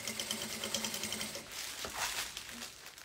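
A sewing machine stitches bias binding onto a fabric edge, running in a steady close whirr with a fast even rhythm that turns a little rougher toward the end, with no talk over it.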